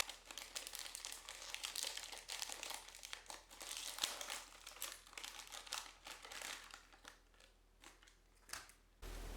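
A crinkly plastic packet of seaweed snacks is opened and handled, giving a dense, continuous crackling and rustling that stays close and fairly loud throughout, with brief sharper crunches.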